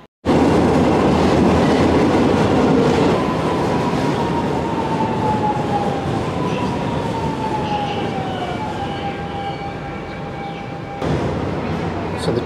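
A crowded underground metro train in Portugal rumbles and roars loudly throughout, its wheels squealing in a long falling whine along the track, with an abrupt change in the noise near the end.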